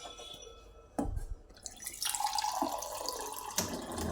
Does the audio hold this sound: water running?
yes